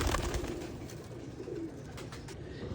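Pigeons of the Motionwaly breed cooing softly in a loft, low murmuring coos repeating under a steady background hiss with no talking.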